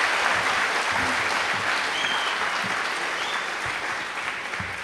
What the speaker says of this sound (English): Let's give her a huge round of applause and welcome to the stage Melissa Vinh.